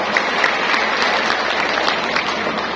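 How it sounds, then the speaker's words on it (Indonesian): A crowd applauds Dr. Gamal, producing a loud, dense, continuous patter of clapping from many hands, with no talk over it. "Boleh beri tepuk tangan untuk Dr. Gamal."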